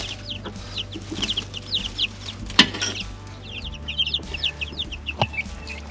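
Chicks pecking at scattered grain on a Polish farm, with soft repeated peeping and clucking calls close by, a few sharper chirps standing out over a low steady background hum.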